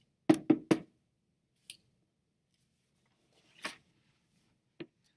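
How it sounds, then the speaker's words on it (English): Knocking on a very large door in a Sesame Street story: three quick loud raps, followed by a few scattered fainter taps and knocks with silence between them. "He took a deep breath and knocked loudly."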